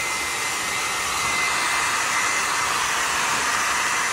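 Blow dryer running continuously during pet grooming, a steady loud airy whoosh throughout with no talking.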